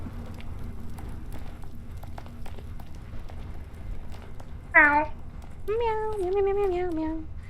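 A soft, short video game cat meow, then a longer drawn-out meow with a wavering pitch, over a quiet low hum.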